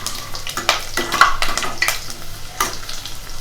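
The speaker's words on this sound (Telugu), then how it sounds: "ఇప్పుడు వెల్లుల్లి రబ్బలు చిన్న పీసెస్గా కట్ చేసుకొని అవి కూడా వేసుకోవాలి." Chopped garlic sizzles in a pan for mutton curry, with a spoon scraping and stirring in several distinct strokes over a steady close frying hiss.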